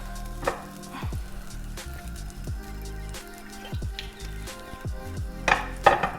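Hot oil sizzling and crackling in a pan with beef for Peruvian lomo saltado, a steady close frying hiss with scattered pops and a few clanks of pan and utensils, no voices.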